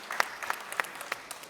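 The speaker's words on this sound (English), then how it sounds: "Can I get applause for that?" Sparse, scattered hand claps from a small conference audience at a crypto event in Dhabi, a handful of distinct claps spread over a moment rather than a full ovation, fairly quiet.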